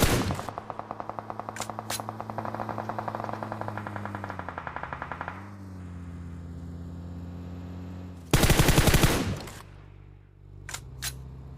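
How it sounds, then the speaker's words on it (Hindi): Rapid bursts of automatic gunfire in PUBG over a steady mechanical drone, then a louder distorted burst and a couple of sharp single shots near the end. "जिस हिसाब से यहाँ पे गोलियां चल रही होती है"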